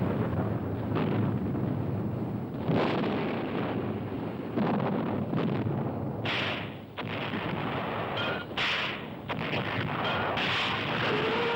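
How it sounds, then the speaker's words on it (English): Heavy artillery pounds during the World War II siege of Bastogne, a continuous rumbling roar with repeated booming blasts and some wind-like noise, steady and loud throughout. "For the besieged defenders of Bastogne, this Christmas, the artillery pounding is the worst of the siege."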